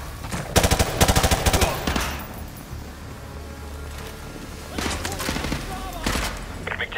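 Bursts of automatic rifle fire crackle in Call of Duty Modern Warfare 2, set in a gulag, with heavy rapid volleys early on and more clusters later over a low rumbling background, and a voice speaks briefly.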